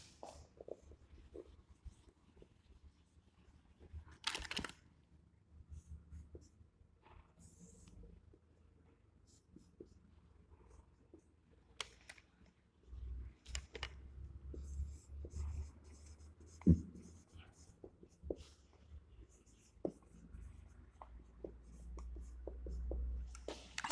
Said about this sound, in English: I'll draw it here